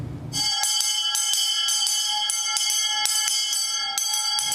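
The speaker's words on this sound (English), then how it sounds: "The ringing of the bell, a sacred sound calling members of the faith to worship" A church bell rings out repeatedly in steady strikes, each tone ringing on and overlapping the next, clear and sustained.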